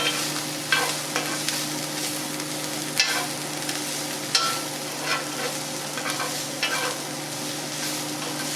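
Chopped garlic and onions frying in a pan, a steady close sizzle with a few louder stirring scrapes at intervals and no talking.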